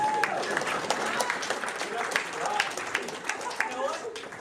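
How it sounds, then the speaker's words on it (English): Scattered clapping from a modest audience at a Team in Training kickoff event, sharp hand claps standing out over a murmuring background of voices. "You can clap for America."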